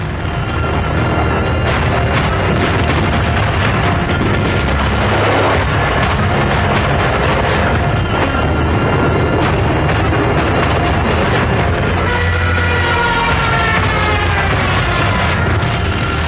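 Bombs exploding during the Japanese air attack on Pearl Harbor in December 1941, a dense, continuous barrage of heavy booms and blasts layered over a constant loud roar, with no pauses and no talking.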